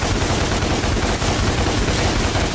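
Dense, continuous bursts of rapid gunfire crackle without pause, loud and close, like automatic weapons firing in the action game DMC: Devil May Cry.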